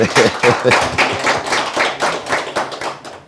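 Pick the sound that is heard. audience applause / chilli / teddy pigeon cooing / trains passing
audience applause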